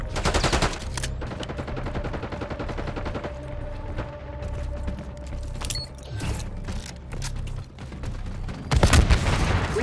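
Rapid automatic gunfire and mechanical weapon clatter from Call of Duty Black Ops 6 multiplayer on the Rewind map in Kill Order mode, sustained bursts with a louder burst near the end, no talk.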